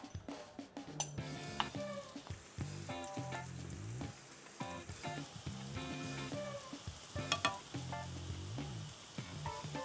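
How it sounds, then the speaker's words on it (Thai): Floured, sliced shallots fry slowly in oil over low heat, a steady close sizzle broken by clinks of a utensil against the pan and stirring knocks throughout. "เวลาทอดเนี่ยใจเย็นๆทอดไฟอ่อนๆเลย"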